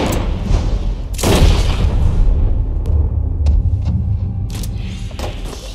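A single close, heavy gunshot booms in a Red Dead Redemption 2 cutscene, followed by a decaying rumble and a few softer thuds and clicks amid ambient game sound.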